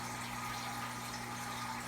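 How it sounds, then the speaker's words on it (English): Water streams steadily from a hose into a bucket while an aquarium is being drained, a continuous close rush with a low steady hum underneath and no talking. "Now you can have a hose just going into a bucket."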